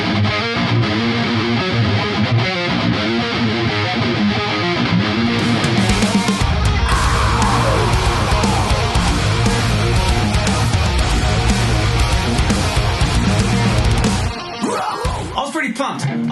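A distorted riff on a Solar 7-string electric guitar, loud and continuous, dense chugging low notes that thicken midway before stopping abruptly near the end.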